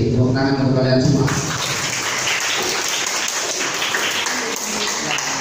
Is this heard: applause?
yes